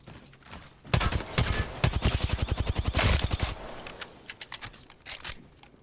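Rapid automatic gunfire from the shooter game Apex Legends bursts out loud and close, a fast run of shots lasting a few seconds, followed by scattered single shots and softer clatter.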